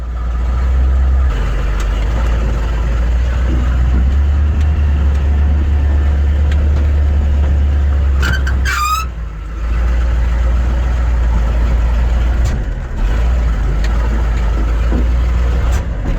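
Old converted fire truck painted John Deere green, its engine idling with a heavy low rumble, loud and close, dropping out briefly in a couple of coughing sputters before settling back, with a short high whine near the middle.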